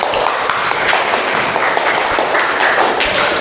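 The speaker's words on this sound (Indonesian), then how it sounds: "Oke, tepuk tangan untuk Mas Afan" Classroom audience applause during a basic photography lesson at a vocational design school, a steady broadband patter of clapping lasting several seconds at a fairly loud level with no talk over it.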